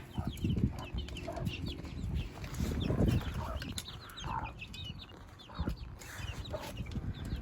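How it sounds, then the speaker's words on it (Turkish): Four roosters and three hens cluck and murmur close by in a busy, irregular chorus, with occasional louder squawks amid soft rustling. "Tahmin olarak 4 horoz 3 tavuk var."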